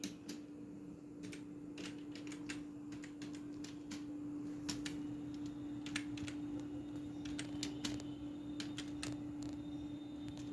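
Someone types on a computer keyboard in a quiet room, with irregular clusters of light key clicks over a steady low electrical hum.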